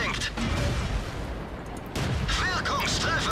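Tank cannon fire in World of Tanks, dense booming gunfire with blasts and rumble throughout, a fresh heavy shot near the middle, with someone speaking over it.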